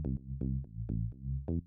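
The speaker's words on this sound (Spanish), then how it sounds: "hace el bajo la melodía de la canción, un poco adaptada al Latin Tech House" A synth bass from Ableton Live's Drift synth carries the melody of a 1969 song reworked as Latin tech house, playing loud, separate plucked notes in a bouncy rhythm, with no voices.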